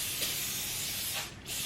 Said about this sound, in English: So now I'm just gonna spray my little baking dish.